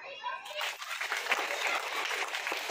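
A group of children in a classroom action-words game clap their hands together, a brisk patter of many small hands that starts abruptly and continues steadily, with some children's voices mixed in.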